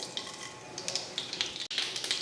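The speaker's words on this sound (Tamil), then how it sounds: "கடுகு பொரிஞ்சதுமே" Mustard seeds crackle and splutter in hot oil in a kadai, a light, irregular popping and sizzling that stays fairly quiet and close, with one brief dropout partway through.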